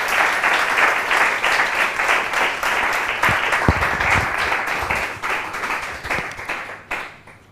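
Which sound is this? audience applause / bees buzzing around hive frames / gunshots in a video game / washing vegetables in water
audience applause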